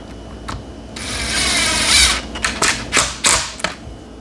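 A power drill drives screws into pallet-wood boards, pulling glued boards tight; a long steady whir gives way to several short bursts of driving, close and loud with no talk.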